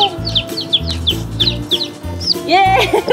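Chickens cluck and squawk in short repeated bursts as they are chased and caught in a coop, close and lively, with a sharp flurry of agitated calls near the end.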